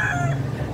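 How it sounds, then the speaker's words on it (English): A rooster crows once, close and loud, a brief strained call with no talking over it. "You can see the rooster singing."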